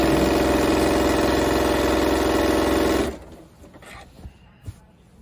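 A sewing machine stitches binding onto a quilt, a loud steady mechanical whir at close range that runs for about three seconds, then stops abruptly, leaving faint handling noises.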